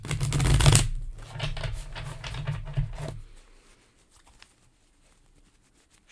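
A deck of playing cards riffles in a fast, dense flutter of papery snaps for about three seconds, close and fairly loud, then stops, leaving near silence with a few faint ticks.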